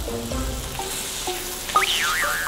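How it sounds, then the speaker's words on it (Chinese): Minced meat pressed flat with a spatula and frying in a pan, giving a steady sizzle with light scraping stirs throughout, close by; a brief high rising squeak or whistle-like tone cuts in near the end. "用铲子压扁绞肉，煎一下，煎至金黄"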